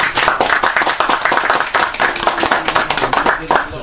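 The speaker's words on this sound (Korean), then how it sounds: "다시 한번 뜨거운 박수 부탁드리겠습니다" Audience at a lecture on Manchuria gives a sustained round of applause, dense and steady throughout, with voices mixed in among the clapping.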